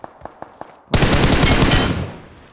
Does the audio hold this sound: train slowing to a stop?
no